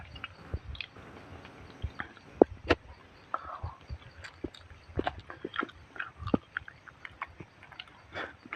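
Someone chews a guava close up, with irregular crunchy bites and wet mastication repeating steadily over several seconds, with no talking.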